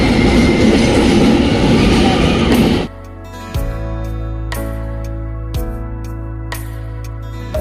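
A train runs on the Araku railway line through dense forest and valleys, a loud, steady clattering rumble for about three seconds before it gives way to music.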